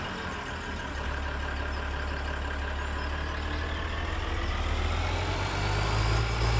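A small yellow tractor engine in Farming Simulator 2013 idles with a low, constant rumble and a slight rise in pitch toward the end, with no voices.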